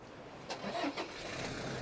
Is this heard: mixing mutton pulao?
no